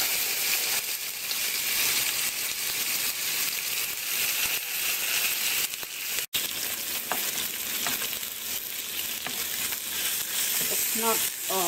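Ingredients frying in hot oil for a sweet and sour soup, with a loud, dense, continuous sizzle and crackle throughout, a brief dropout midway, and faint stirring scrapes under the hiss.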